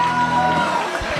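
Crowd at a wrestling match cheering and roaring during the Maine State Posse vs InZanely Rude bout, a steady, loud wall of voices with a few whoops.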